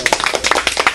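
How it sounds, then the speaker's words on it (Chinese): Studio audience clapping at a Macau radio interview session about the 2015 Lai Yuen amusement park, a brief burst of scattered close handclaps. "大家俾啲掌声丽苑先。"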